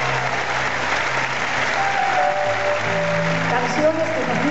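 Applause from a concert audience for an Argentine songwriter during a live show, a steady wash of clapping with sustained music and tones running underneath.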